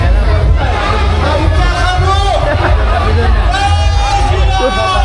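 Dense festive crowd at the Raiyba Devi village fair (yatra), a loud, continuous hubbub of many voices and chatter that fills the whole stretch without pause.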